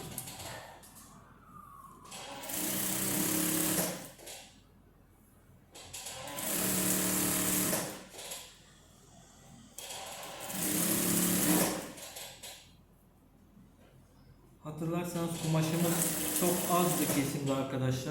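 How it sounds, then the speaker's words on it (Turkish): A sewing machine runs in several bursts of a few seconds each as it stitches a wrap dress, a close, busy whirring hum, with brief talk in the pauses between runs. "Altına ince çıma dediğimiz dikişi çekiyorum."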